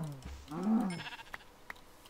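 A sheep bleats once in a Minecraft-style survival game, a short wavering blocky-sounding cry up close, followed by a couple of faint clicks and quiet game ambience.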